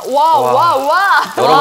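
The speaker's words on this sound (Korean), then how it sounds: "소리 들리세요? 소리? 지글지글한 소리 진짜 예술입니다." Beef or pork intestine (makchang) sizzles on a grill at a traditional market stall, a steady crackling hiss running under close, excited voices throughout.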